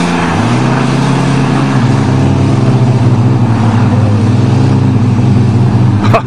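A Ford Ranger and a Dodge Dakota pickup, both two-wheel drive, rev hard against each other in a tug of war on a farm, engines roaring loud and close with a rising, sustained whine.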